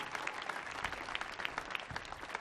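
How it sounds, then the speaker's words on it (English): Concert audience applauding a drummer at a Millennium Stage performance, steady scattered clapping from a moderately distant crowd with no voices, continuous for the whole stretch. "Please give him one more round of applause."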